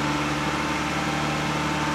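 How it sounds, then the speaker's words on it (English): A Honda Jazz 1.4 engine, just fitted with a new catalytic converter, holds a steady raised idle near 2000 rpm, producing a constant, even hum with a faint whine and no talking. "So just raising the revs there to about 2000."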